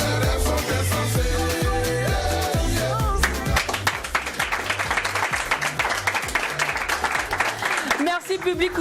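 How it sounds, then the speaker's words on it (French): Steady applause from a hall audience rolls along under loud music with a strong bass beat, the clapping growing denser in the second half before a brief break near the end. "Merci public pour cette salle d'applaudissements"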